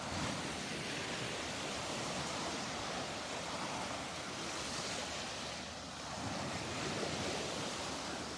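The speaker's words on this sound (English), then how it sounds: "A few waves here this morning, kicking up the sand, kicking up the bottom." Ocean waves breaking on a foggy morning beach at Delnor-Wiggins, stirring up sand: a continuous roaring surf wash with gentle swells and dips, mixed with some wind noise on the microphone, no talking.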